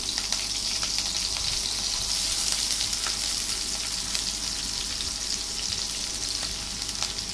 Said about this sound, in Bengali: শুকনা মরিচ ভেজে নিচ্ছি বেশি করে, পেঁয়াজ রসুন, তার মাঝে একটু কালো জিরা।